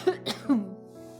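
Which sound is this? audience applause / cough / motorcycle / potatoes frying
cough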